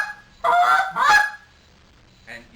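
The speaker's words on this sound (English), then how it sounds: "then roll a double cluck off of it" Turkey call clucking in a contest calling sequence, a sharp pair of loud clucks in quick succession followed by a softer, shorter note after a pause.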